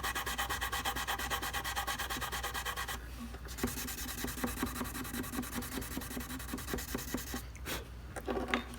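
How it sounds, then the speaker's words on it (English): Sandpaper rubbed on a violin nut during restoration, a close, steady rhythmic scratching of quick back-and-forth strokes that pauses briefly and then resumes at a slower, softer pace. "The only part that I'm touching that sandpaper to is the nut"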